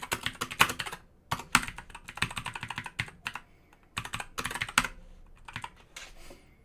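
Fast bursts of computer keyboard typing while entering code during web development, crisp close key clicks in rapid clusters separated by brief pauses, with no talking.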